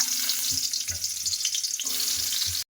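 Food sizzling steadily in a pan on the stove, close and continuous, with a few soft knocks of stirring along the way.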